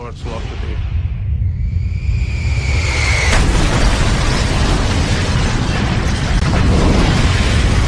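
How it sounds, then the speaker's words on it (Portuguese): A massive, deep explosion of a crashing airliner over the town of Lockerbie roars continuously, a dense rumbling blast that fills the whole clip, with a brief rising whoosh near the start. "E quando atingiu a cidade, foi mais terrível das explosões."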